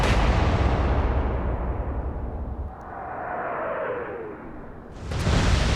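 Naval artillery in the Atlantic Fleet game booms in a heavy opening blast that rolls and fades, then a shell whistles by with a falling whoosh before another loud boom lands at the end.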